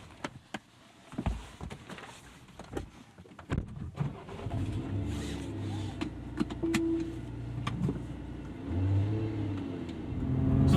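A 2013 Scion FR-S base model sports car driving, quiet interior clicks and bumps giving way to a steady mid-pitched engine hum that rises as it accelerates, growing louder toward the end.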